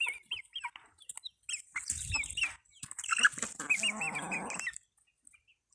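Chickens on a small Brazilian farm, including an old mother hen with chicks and young pullets, cluck and call in a close, lively burst that fades out near the end.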